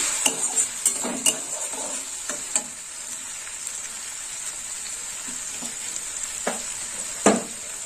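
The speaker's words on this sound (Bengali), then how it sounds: "এবার একটু নেড়ে চেড়ে নেব। এবার দিয়ে দেবো হলুদ গুঁড়ো, 1/2 চামচ হলুদ গুঁড়ো দিয়ে দিলাম।" Mustard and eggplant curry with turmeric is stirred in a frying pan. A steady sizzle runs throughout, broken by intermittent clinks and scrapes of a spoon against the pan.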